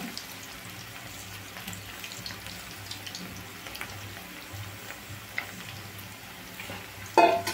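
Cauliflower 65 pieces frying in hot oil, a steady quiet sizzle and crackle that runs throughout, with a louder clatter near the end.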